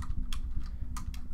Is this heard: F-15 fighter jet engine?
no